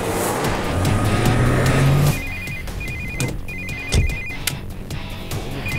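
A phone rings in short repeated electronic bursts after a loud rumbling passage, the ringing continuing intermittently over a quieter background.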